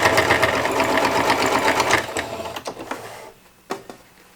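Sewing machine running a quick burst of stitches along the edge of a fabric phone case, close and steady for about two seconds, then a few short taps and clicks as it stops.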